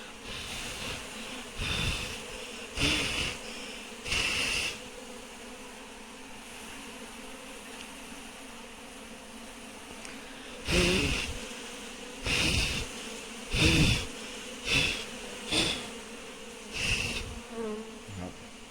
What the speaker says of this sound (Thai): เอพึ่งงานบินวนแล้วครับตอนนี้